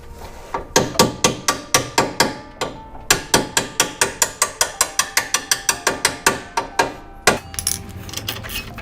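A hammer gently tapping a coilover part into place during a suspension install on a Mazda MX-5 Miata NA8, giving a long run of sharp, evenly spaced metallic knocks up close, with a brief pause partway through.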